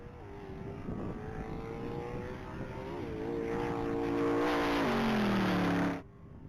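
A 2018 Chevrolet Camaro ZL1 makes a top speed pass at the Texas Mile, its engine roaring loudly and steadily climbing in pitch through the gears, with a brief shift dip before the sound cuts off abruptly near the end.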